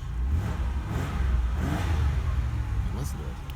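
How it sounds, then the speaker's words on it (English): A healthy Oldsmobile Cutlass Ciera V6 revving while parked, a close, loud engine swelling up and settling back in a couple of blips, with faint talk over it. "Give her a little rev action here"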